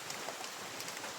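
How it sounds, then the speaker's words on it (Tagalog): Heavy rain pouring down, a dense, steady hiss that stays even and continuous, with no voices. "Ang lakas ng ulan."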